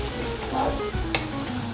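Chopped peppers sizzle softly in a pan of chicken biryani as a spoon stirs them through, with a few light scrapes over a steady, low frying hiss.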